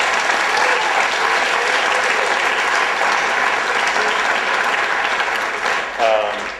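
Audience applause fills the room after a musician's live performance at a university forum, loud and steady with scattered cheers for about six seconds before beginning to fade.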